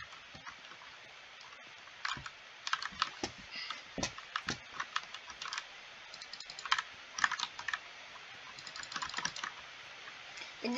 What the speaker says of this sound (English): And this keyboard is red switch.